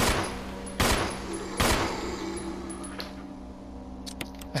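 Two loud handgun shots fired at a zombie in Resident Evil HD Remaster, about a second apart with ringing decay, then quieter game ambience and faint clicks.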